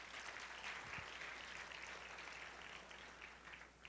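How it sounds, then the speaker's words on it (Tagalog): A church congregation at a Sunday service clapping loudly together, a dense, steady wash of applause that tapers slightly toward the end. "Okay, pumalakpak ng malakas."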